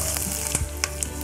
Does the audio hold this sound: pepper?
yes